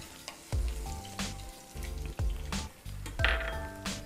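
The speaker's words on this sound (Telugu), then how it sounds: "పోపు వేగిందండి, వెల్లుల్లిపాయలు కూడా వేసేస్తున్నాను" Garlic drops into hot oil with tempering spices in a pan for Andhra-style gongura chutney, crackling and sizzling in repeated loud bursts, with clinks of a spoon against the pan.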